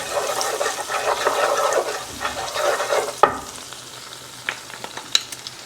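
Freshly minced ingredients sizzling and frying in a pan while being stirred, a steady close crackle with scraping stirs, followed by a few sharp utensil clicks as the sizzle continues.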